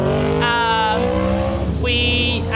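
Motorbike engines rev and pass in the background along a popular riding route through the Scenic Rim of South East Queensland, with two loud rising-and-falling engine sweeps that carry steadily through the clip.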